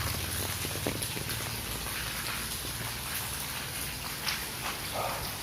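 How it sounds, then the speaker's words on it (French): Light rain tapering off outdoors, a steady soft patter of drops across the whole stretch with a few sharper drips, no voices. "il pleut de moins en moins, mais ça s'est rafraîchi."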